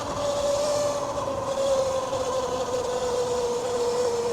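A 72-volt Sur Ron electric dirt bike motor whines under partial throttle, a steady rising-and-settling electric hum with wind and road rush, loud and close, with no speech.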